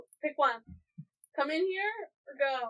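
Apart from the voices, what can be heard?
cat meowing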